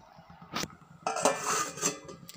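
A metal lid clanks onto a pot of simmering anchovy fish curry, a few sharp close clinks and a scraping rattle as it settles, with no talking.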